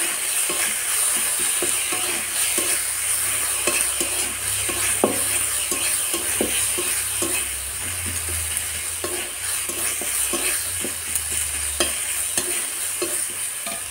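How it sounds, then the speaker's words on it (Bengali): Minced meat mixture for a burger sautés in a pan with turmeric and chili powder, giving a steady close sizzle with frequent scraping stir strokes throughout and no talking. "এবার ভালো করে কষিয়ে নেব।"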